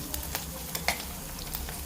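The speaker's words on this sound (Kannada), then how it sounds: "ನೋಡಿ ನಾವು ಒಗ್ಗರಣೆ ಎಷ್ಟು ಲೋ ಫ್ಲೇಮಲ್ಲಿ ಮಾಡ್ತಾಯಿದ್ದೀವಿ" Dried red chillies sizzle in hot oil on a low flame for a tempering, a steady crackling hiss dotted with small pops, close and moderately loud.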